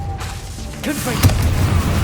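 A Confringo fire spell bursts in Hogwarts Legacy, a booming blast with a sharp crack near the middle, heard under a voice calling out spells amid other game effects.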